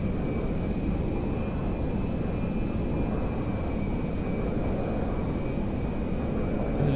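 MD-11 airliner engines in the GTA 5 video game drone steadily on a landing approach, a continuous, even roar with a faint high whine on top.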